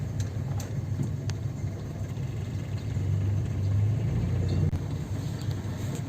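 A car creeping forward at low speed during a driving lesson, its engine giving a steady low rumble close by that swells slightly midway, with no talking.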